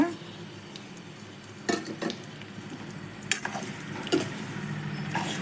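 Semolina (rava) being roasted on a low flame in a pan for rava idli, with a spoon scraping and stirring in a few intermittent strokes over a soft steady background hiss, close by.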